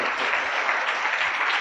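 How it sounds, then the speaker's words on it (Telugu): Applause from a church audience at a Good Friday gathering, a dense burst of clapping that holds steady and fairly loud for the whole short stretch, with no voices over it. "చెప్పిన అబ్బాయికి బాగా కొట్టండి చప్పట్లు"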